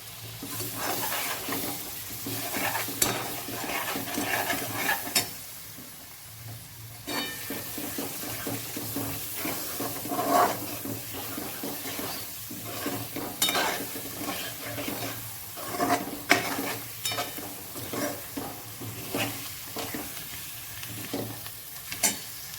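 Egg bhaji sautéing in a pan with its masala: a constant close sizzle with frequent scraping stirs, easing briefly before picking up again.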